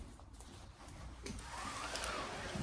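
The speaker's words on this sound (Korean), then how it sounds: "아 이거 뭐 선풍기 소리 들어가도 괜찮으려나?" An electric fan runs as a steady, soft whooshing hum through a quiet room during a makeup routine. The hum grows slightly fuller partway through, with no talking.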